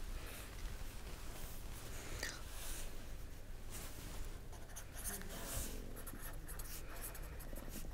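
Marker or chalk scratching across a board during a statistics lecture, faint irregular strokes close by over a low background hiss.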